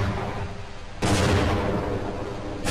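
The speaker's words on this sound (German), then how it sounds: "Wir kämpfen gegen diesen Panzer da." A battle against a tank in Half-Life Blue Shift, with a sudden heavy blast landing over rumbling background combat noise and another sharp hit at the end.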